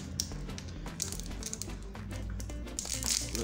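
Crinkling and crackling of a Pokémon trading card booster pack wrapper being torn open, a close, quiet rustle of foil plastic with small taps throughout.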